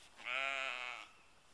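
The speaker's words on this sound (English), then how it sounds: "There's a sheep going after the baby." A sheep lets out one clear, drawn-out bleat lasting under a second, loud and close, then fades to quiet.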